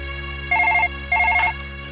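A telephone rings in two short electronic trilling bursts separated by a pause, clear and close over a low steady background hum.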